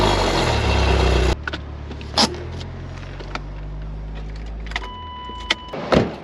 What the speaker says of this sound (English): But first, a cold startup.